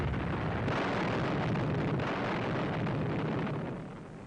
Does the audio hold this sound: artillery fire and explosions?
yes